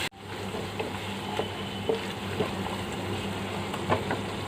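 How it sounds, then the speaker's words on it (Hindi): Ground coriander-cumin masala fries in a pan for an egg white korma, a soft steady sizzle with faint crackles and occasional light stirring taps, close and fairly quiet. "इसको भी कुछ देर भून लेना है"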